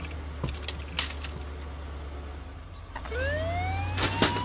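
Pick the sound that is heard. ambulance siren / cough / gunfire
ambulance siren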